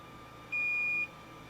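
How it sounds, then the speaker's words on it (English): A single steady electronic beep from a multimeter continuity test, high-pitched and clean, holds for about half a second against a quiet background. "I'm getting a bit of a long beep"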